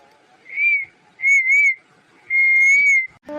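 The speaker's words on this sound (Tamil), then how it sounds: "என்னடி மாமாவை விசில் அடிச்சு கூப்பிடுற?" A person whistles to call someone, three sustained bright whistle notes, the middle one broken into two, close and loud with short silences between.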